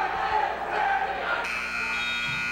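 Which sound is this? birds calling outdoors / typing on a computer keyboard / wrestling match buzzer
wrestling match buzzer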